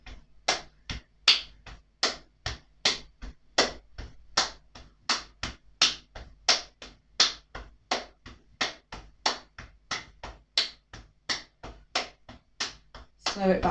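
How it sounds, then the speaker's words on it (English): Hands clap and tap the shoulders in a steady exercise rhythm, about three sharp slaps every second, close and crisp, carrying on evenly for more than a dozen seconds. "We're going to clap. Tap your right shoulder. Clap. Left shoulder."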